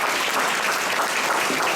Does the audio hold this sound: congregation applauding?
yes